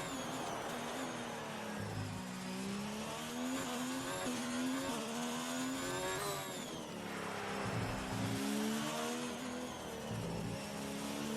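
A Formula 1 car engine in the F1 2019 racing game at Baku screams continuously at high revs, pitch rising and dipping with gear shifts, loud and steady throughout with no talk.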